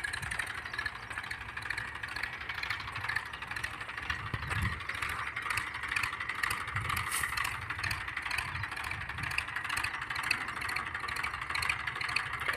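Massey Ferguson 1035 DI tractor engine running in a farming village, a steady diesel idle with a regular mechanical ticking and rattling rhythm, continuous and fairly close.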